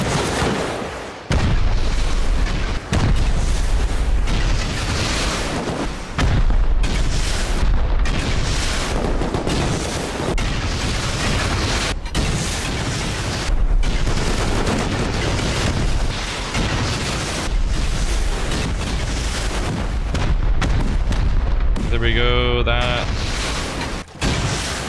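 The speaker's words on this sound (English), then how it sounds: "Just rocket it." Rocket explosions in the video game Rust boom repeatedly and loudly, dense blasts and rumbling debris packed close together with scarcely a pause, while players talk over the chaos.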